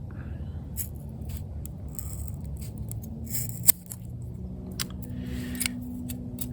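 Several quiet snips of scissors cutting through paracord, close up, with one sharper clip standing out over a low background hum.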